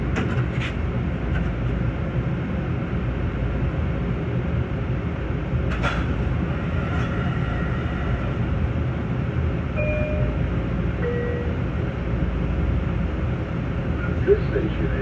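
Long Island Rail Road train running between Ronkonkoma and Jamaica, heard from behind the cab: a steady low rumble and rattle of the rolling train with occasional squeals and clicks, and a recorded announcement voice over it.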